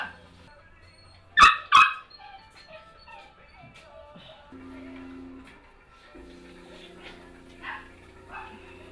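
Dogs in an animal shelter give two sharp barks close together near the start, then fainter yips and whimpers carry on through a hum in the building.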